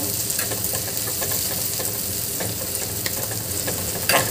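Spices sizzle in a frying pan for a giloy leaf stir-fry, a dense, even crackle close by, with soft stirring scrapes throughout and a slightly louder clatter near the end.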